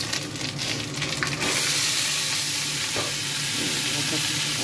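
Vegetables hit hot oil in a pan while cooking a feast-style dish, bursting into a loud, steady sizzle after a brief quieter stretch, with occasional stirring clatter.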